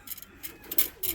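Pigeons in a loft coo in soft, low, close murmurs, a few short mumbling calls against faint background noise.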